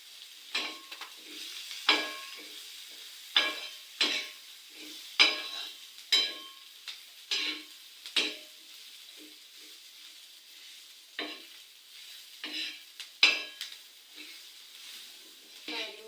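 Grated coconut and garlic dry-roasting together in a pan for dhaba-style stuffed brinjal, with a steady soft crackle broken by repeated sharp scrapes of a spatula stirring, close and fairly loud, with quieter pauses between strokes.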